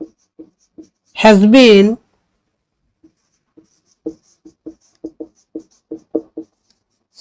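Pen or chalk strokes write out an example sentence, a series of short, sharp scratches in an irregular rhythm, with a brief spoken phrase early on.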